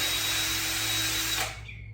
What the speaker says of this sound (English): Drill all the way through the other side because it won't go all the way through more than likely